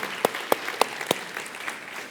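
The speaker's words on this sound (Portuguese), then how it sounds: "Dá uma salva de palmas nesse texto." A congregation claps during a sermon on breaking curses, starting with a few sharp, separate claps that thin into a softer, scattered patter.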